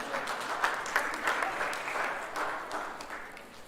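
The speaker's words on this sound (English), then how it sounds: "Big round of applause for Mr." A school assembly audience claps steadily in sustained applause, a soft, dense wash of many hands heard from a distance without a break.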